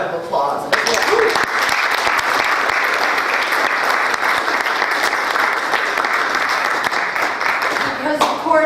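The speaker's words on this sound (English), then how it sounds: "So that's another one for a round of applause." An audience at a rally in Portland, Connecticut breaks into loud, sustained applause that swells quickly and fills the room for several seconds, with a voice heard at the start and end.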